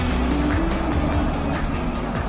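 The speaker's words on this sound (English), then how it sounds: "The remarkably compact all-aluminium V12 engine is designed to deliver low-end torque rather than screaming top-end speed." A Rolls-Royce Phantom's compact all-aluminium 6.75-litre V12 hums with a smooth, steady low drone, close and even, with faint tonal shifts as it runs and no voices over it.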